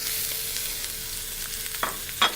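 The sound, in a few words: mushrooms frying in a pan with bok choy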